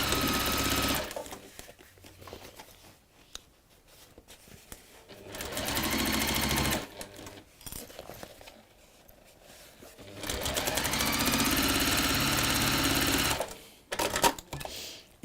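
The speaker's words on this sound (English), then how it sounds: "we're just going to sew along the bottom there" Sewing machine running along the bottom seam of fabric in two long steady stretches with a short burst in between, close and loud, with quiet handling between runs.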